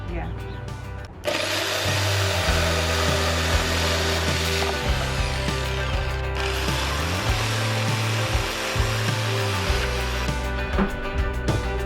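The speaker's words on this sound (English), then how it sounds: "now we're just cutting the wood." A power saw cuts wood for a van's floor, a continuous, loud motor whine that runs steadily with small shifts in pitch as the blade bites, while people talk near it.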